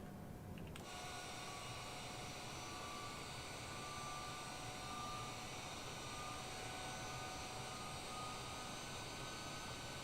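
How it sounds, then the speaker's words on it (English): Boeing 777 jet airliner engines on the takeoff roll in Microsoft Flight Simulator, a constant loud roaring whine with steady tonal hum, unbroken for the whole stretch after a brief onset. "Now see the 777 on the runway now departing on his takeoff rollout"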